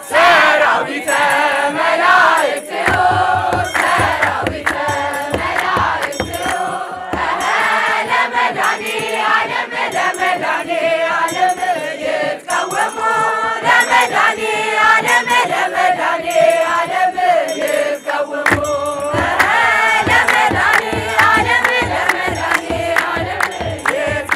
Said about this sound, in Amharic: እልል በሉለት